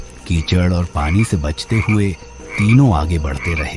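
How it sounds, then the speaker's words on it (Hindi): Frogs croak in a dark, quiet outdoor night scene, a run of rasping, throaty calls heard under a narrator's speech. "कहीं दूर से मेंढकों की टर्राहट"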